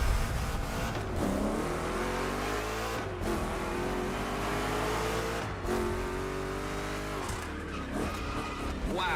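Two Chevrolet big-block race cars roar through rough turns in The Crew Motorfest, engines revving and rising in pitch with tire squeal and skidding, loud and continuous with brief breaks between gear changes.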